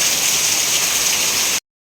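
Dense, steady hiss of heavy monsoon rain pouring down in Udupi, loud and unbroken, cutting off abruptly after a second and a half.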